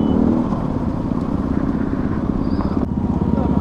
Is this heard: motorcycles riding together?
yes